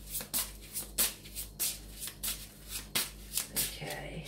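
Tarot cards are shuffled and handled close up, with a run of crisp, papery riffles and slaps at an uneven rhythm, soft and alone.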